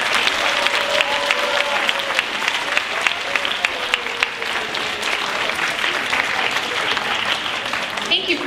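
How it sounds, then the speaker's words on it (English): Audience applause at a TEDx school talk event, a full, even wash of clapping that holds steady throughout, with faint voices mixed in beneath it. "Let's give everyone a round of applause."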